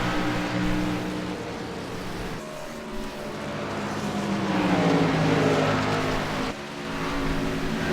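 Race cars pass on an oval track, their engines roaring loudly with rising and falling pitch as they sweep by. Brief dips between passes break an otherwise continuous wash of engine noise.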